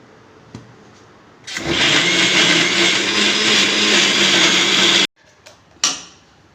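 Mixer grinder spinning chopped small onions, a steady loud whirring burst lasting a few seconds, then stopping abruptly, followed by a couple of light knocks.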